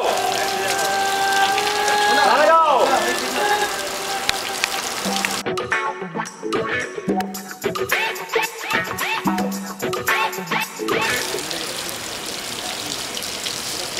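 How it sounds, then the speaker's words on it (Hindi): Water is poured onto a mirror on a film set to create a water effect, a continuous rain-like splatter with voices and other on-set sounds breaking in midway. "मिरर पे पानी डाला जा रहा है"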